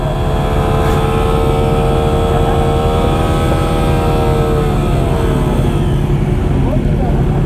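A car doing a burnout, its engine held at high revs while the tyres spin, makes a loud, continuous roar with droning harmonics for the whole stretch. Voices talk over it.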